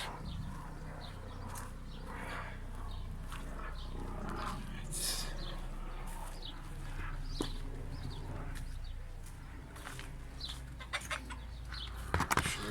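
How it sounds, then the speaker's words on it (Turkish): Chickens clucking softly at a distance over a low rumbling background, with scattered faint clicks and thumps. "Şöyle tavuklarımız dışarıda bahçelerine çıkmışlar."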